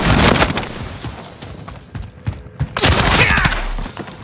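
Small-caliber gunfire crackles in dense, rapid volleys in a video game, loud and close, with thudding impacts and a short lull before the shooting picks back up.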